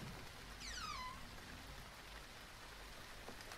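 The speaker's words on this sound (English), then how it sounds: "Bro, it's actually raining." Steady rain falls outside on a schoolday morning, a dense, even hiss that fills the whole stretch, with a brief high chirp rising above it early on and no voices.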